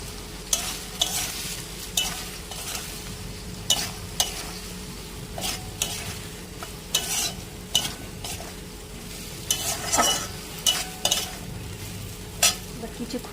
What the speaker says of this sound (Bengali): এবার কিছুক্ষণ ধরে ভালোভাবে কষিয়ে নেব